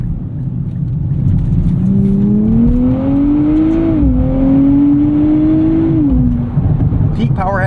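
A 2024 Nissan Z Nismo's turbocharged engine accelerating, heard from inside as a loud droning pull whose pitch climbs steadily, drops briefly at a gear change, then climbs again before easing off.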